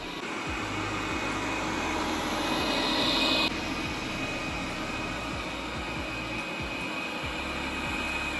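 A Neabot Nomo Q11 robot vacuum mopping the floor gives a steady, close mechanical whir with a thin high whine. It holds continuously with only slight swells and no one speaking.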